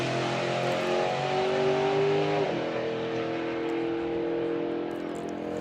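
A drag racing car makes a run at Santa Pod Raceway during a Bug Jam festival. The engine holds a loud, steady roar, shifts once partway through, then fades into a fainter drone.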